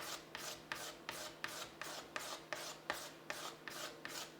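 Repeated scraping strokes on gouged, scratched plastic, a steady rhythmic rasp about every half second, close and quiet with no talk.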